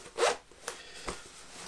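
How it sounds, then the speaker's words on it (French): A zipper on multicam camouflage tactical trousers is pulled open upward, a quick close rasp followed by a few faint tugs and clicks. "Et la fermeture éclair qui s'ouvre, si je vous la montre, en montant."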